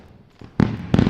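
Two loud, sharp booms of a fireworks sound effect, the second following about a third of a second after the first, each with a quick crackling tail.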